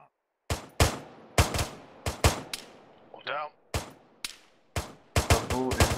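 Rifles fire in rapid, irregular volleys in Arma 3 on the Takistan map with British forces, as about a dozen sharp, loud cracks ring out close by, with short shouted voices breaking in between shots.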